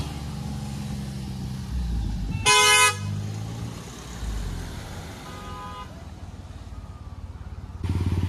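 A modified Suzuki Alto's engine revs and accelerates nearby, with a low steady roar throughout and a short car-horn honk near the middle. Voices may be faintly present.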